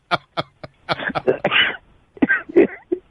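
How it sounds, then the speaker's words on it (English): A person coughs and clears their throat in a series of short, sharp bursts followed by rougher throaty rasps, close and fairly loud with gaps between them. "I have a little cough, sorry."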